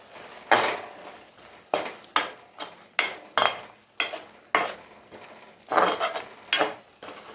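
A spatula scrapes through spinach thokku sautéing in a pan, making a steady run of loud, rhythmic stirring strokes with a soft sizzle between them and no talking.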